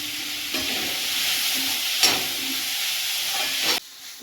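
Tomatoes and onions with meat sizzle loudly in a hot pan, a dense steady hiss broken by a few scraping stirs and a sudden quieter drop at the end, up close with no voices.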